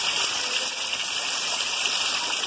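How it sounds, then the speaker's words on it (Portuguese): Heavy rain pouring down in Ibiratinga, Brazil, near a vegetable garden: a loud, continuous dense hiss of water with no breaks and no voices. "A chuva em Ibiratinga, galera."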